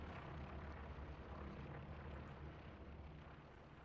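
A recon plane drones overhead in a multiplayer D-Day war video game, a low, rumbling engine roar holding steady at moderate distance, with no voices over it.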